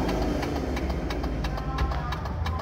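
A motorbike engine idles steadily after starting, a continuous low rumble with regular ticking pulses, close and moderately loud, with no talk over it.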